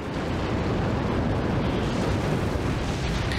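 Lava bomb explosions in Age of Calamity, a loud, continuous roaring blast of rumbling bursts that never lets up, close and dense throughout with no one talking.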